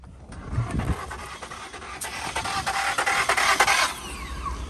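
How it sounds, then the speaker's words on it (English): Car starter motor cranking an engine that may have a stretched or off timing chain, a rapid, rhythmic whirring and clattering churn that runs for several seconds before cutting out, fairly close. "that's the starter you guys hear"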